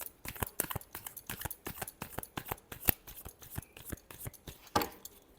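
Tarot cards being shuffled by hand, a fast run of crisp riffling snaps and slaps close up, continuous for several seconds with no talk.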